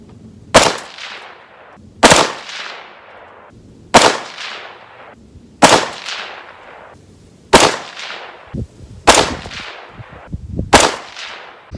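Panzer Arms AR57 rifle fired at a 100-yard range, seven sharp, loud shots spaced about one and a half to two seconds apart, each with a short decaying echo.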